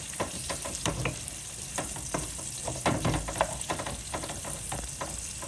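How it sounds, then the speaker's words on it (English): Onions sizzle and fry in smoked bacon fat in a pan, with a steady crackling hiss and repeated stirring scrapes throughout. "Now let's get these onions going. Let's get them nice and caramelized"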